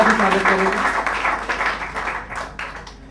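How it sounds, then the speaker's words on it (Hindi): An audience at a Hindi Day school event gives a round of applause to welcome guests, a dense burst of clapping that gradually thins and fades over three seconds. "अजित अंजुम सर जी का, तो एक जोरदार तालियों के साथ इनका भी स्वागत करें।"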